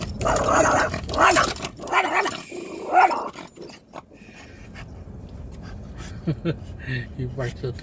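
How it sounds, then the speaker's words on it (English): A dog barks at cows grazing beside a road near the Soledad Canyon and Dripping Springs camping areas, giving a few rough barks and growls close by, mixed in with people talking over an outdoor background. "He barks at the cows."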